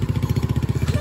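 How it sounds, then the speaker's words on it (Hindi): A motorcycle engine in a residential lane gives a loud, close, steady throbbing rumble with fast regular pulses, heard on its own with no talk. "बाइक आ रही है"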